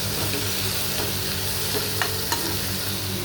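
Red chilli powder and spices stirred into hot oil in a frying pan: a steady, close, moderately loud sizzle with a couple of brief spoon scrapes and no talking.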